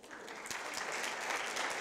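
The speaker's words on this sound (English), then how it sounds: "You can give her a clap if you want." Steady audience applause at a summit, a dense continuous patter of many hands clapping from the opening moments through to the end, with no voices standing out.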